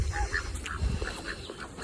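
Big ducks quacking on a smallholding, several short nasal quacks scattered irregularly over outdoor background noise, moderately close.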